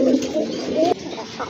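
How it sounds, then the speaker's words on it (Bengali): A male Kokha pigeon coos close by in a couple of soft, rolling calls, with a faint voice in the background. "এই যে দেখেন খুব ভালো ডাকে কিন্তু, দেখার মতো একটা নর কবুতর"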